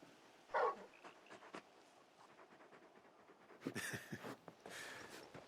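The large dog companion Torgal pants in Final Fantasy XVI, giving quick, soft breaths with a sharp yip early on and a few whimpering, breathy bursts later, close and fairly quiet.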